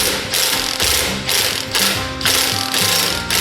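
A Makita power tool, likely an impact wrench working on a Ram transmission job, chatters and ratchets loudly up close in repeated bursts, hammering in short runs with brief gaps.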